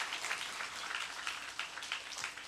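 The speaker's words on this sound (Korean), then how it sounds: "우리 서로 수고하신 분을 위해서 큰 박수로 한번." A church congregation applauds during a Sunday worship service, producing a brief, fairly faint burst of many hands clapping together with an even texture.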